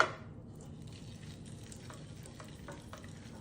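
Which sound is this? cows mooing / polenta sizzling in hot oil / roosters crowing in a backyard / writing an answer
polenta sizzling in hot oil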